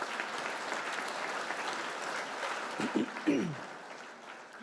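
Audience applause at a KAMS/AMS completion ceremony for staff members, a steady, moderately faint round of clapping, with a voice speaking briefly near the end.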